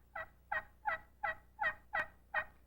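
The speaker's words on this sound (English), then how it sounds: "The Grand National slate over glass is, again, it's a mellow sounding call." Seven evenly spaced, soft yelps from a Grand National slate-over-glass turkey friction call, played as a mellow hen tree call, close and alone in a quiet setting.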